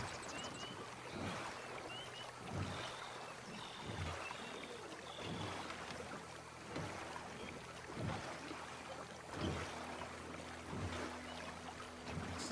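A 12-foot skiff glides across bayou water in Red Dead Redemption II, with steady lapping and sloshing and regular rhythmic paddle-like strokes repeating every second or so.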